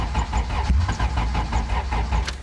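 A car engine cranks on a weak battery with a rapid, rhythmic chugging of the starter repeating throughout, close by and moderately loud, without catching.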